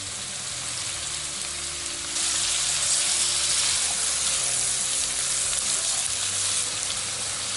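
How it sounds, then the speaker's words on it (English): Red peppers dropped into a hot pan with asparagus and bacon, the frying jumping to a louder, brighter sizzle that then holds steady, close up with faint stirring and no speech. "add the red peppers in here and cook for another 3 or 4 minutes"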